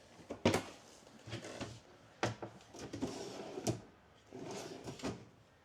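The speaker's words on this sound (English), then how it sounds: "These are soft close drawers as well" Soft-close kitchen drawers in a 2025 Forest River RiverStone 421FK RV slide and settle shut, several muffled thumps and sliding rumbles spaced a second or so apart, fairly close and quiet.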